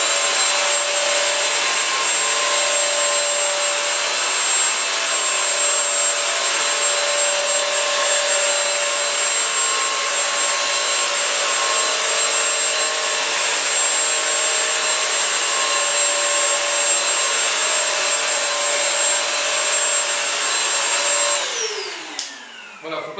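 Bissell Crosswave wet floor cleaner running steadily over 30 by 30 cm tiles, a close, continuous motor whine with a high tonal hum that holds level throughout and then winds down abruptly near the end.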